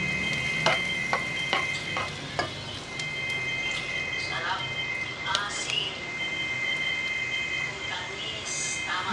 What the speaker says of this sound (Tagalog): prito lang muna ng bawang.